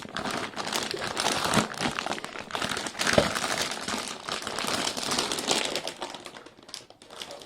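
Strong plastic packaging for a replacement cistern stop cock crinkles and crackles continuously as it is pulled open by hand, close and busy with sharp rustling bursts and one louder snap, no speech.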